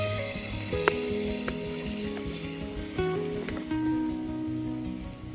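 Jilapi batter hisses and crackles steadily as it fries in hot oil, a close, continuous sizzle with a tune playing underneath.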